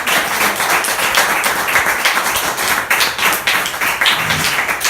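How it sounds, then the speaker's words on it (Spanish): A church congregation claps together, loud and close, in a brisk stream of sharp hand claps with a rhythmic, tapping quality that holds steady throughout. "Denle un aplauso a Cristo."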